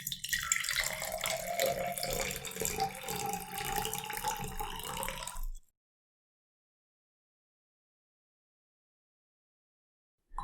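Liquid from a steeped herbal infusion pours through a strainer in a steady trickling stream for about five seconds, then stops, leaving near silence.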